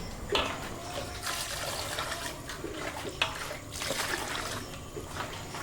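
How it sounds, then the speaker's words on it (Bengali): Catla fish pieces are rinsed and rubbed in water, with repeated splashing and sloshing bursts close by over a steady wash of running water. "এবার ধুয়ে নেব কাতলা মাছগুলো"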